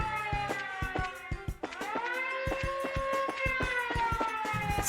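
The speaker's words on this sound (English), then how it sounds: "The siren is very annoying." In the video game Trails in the Sky, an alarm siren wails in a repeating rising and falling tone, loud and continuous, overlaid with sharp rhythmic pulses throughout.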